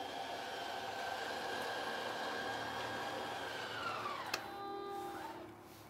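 Slide-out room on a Coachman Freelander 22QB Class C RV extending, a steady motor whine that holds for several seconds and then drops in pitch as it slows, ending with a clunk as the room reaches full extension.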